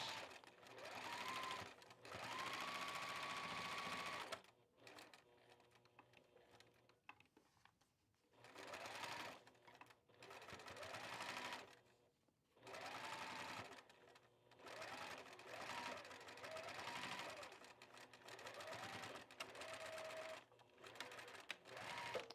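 A sewing machine stitches a stay stitch in quick whirring bursts of varying length separated by short pauses, fairly close and loud, with a brief higher whine near the start.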